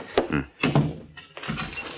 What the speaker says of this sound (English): Hey, shut that door.